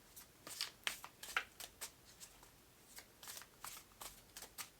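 Thin, flimsy tarot cards are shuffled by hand in a run of quick, papery riffles and flicks, close and soft, with no voices over them.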